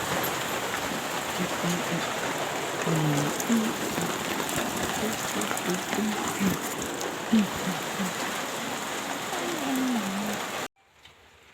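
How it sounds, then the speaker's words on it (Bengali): Heavy rain pours steadily outside on a rainy day, a dense continuous hiss with a few faint voices underneath, cutting off abruptly near the end. "এখন কেমন বৃষ্টিটা নেমেছে একবার দেখো"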